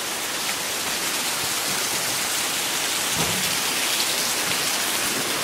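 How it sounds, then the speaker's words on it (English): Heavy pouring rain roars in a close, dense, unbroken wash of drops striking surfaces, loud and continuous, with a faint low rumble partway through and no talk. "It's so loud. It's like foggy over there. It's pouring."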